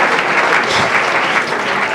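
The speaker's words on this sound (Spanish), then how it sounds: "Yo creo que un aplauso se merece" A live audience at a Spanish science night talk gives a professor a loud round of applause, thick continuous clapping from many people lasting a couple of seconds, without talk.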